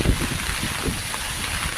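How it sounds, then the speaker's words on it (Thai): Strong, gusting wind buffets an outdoor meatball stall during a rainstorm, a steady rushing roar with thumps of wind hitting the microphone and no clear voices. "ลมนี่ลมลมแรงครับลมมันลมมาเป็นระยะระยะนะครับ ลมกระโชกเป็นระยะระยะนะ"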